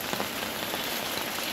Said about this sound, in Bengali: এদিকে বৃষ্টি বৃষ্টি যা হচ্ছে না